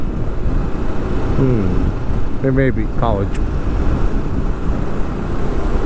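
Strong wind on a single-lane highway from Hyderabad to Shirdi, with roadside windmills turning, roars as a steady buffeting rush across the microphone. A person speaks briefly over it.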